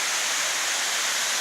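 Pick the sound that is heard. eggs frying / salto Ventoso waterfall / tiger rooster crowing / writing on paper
salto Ventoso waterfall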